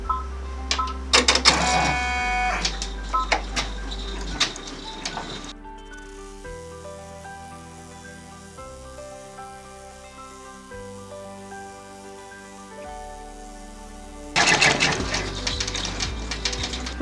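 An embroidery machine stitches chenille quilt block rings in rapid mechanical chattering bursts, with a long stretch of background music between the stitching sections at the start and end.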